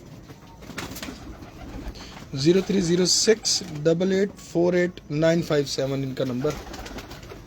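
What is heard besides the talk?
pigeons cooing, Salara pigeons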